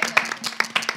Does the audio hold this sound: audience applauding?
yes